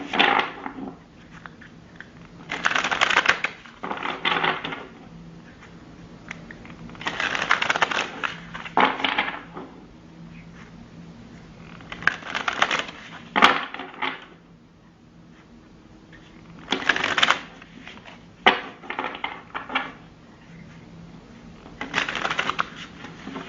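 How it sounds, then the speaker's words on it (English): Egyptian Tarot cards are shuffled by hand in repeated bursts of close, crisp riffling and rustling, separated by short quiet pauses. "I'm going to mix the cards, shuffle them."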